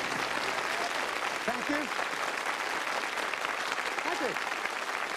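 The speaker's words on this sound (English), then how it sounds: "what a lovely burst of applause" A studio audience at a 1987 television game show applauds in a dense, steady burst that fills the whole stretch, while someone speaks briefly over it.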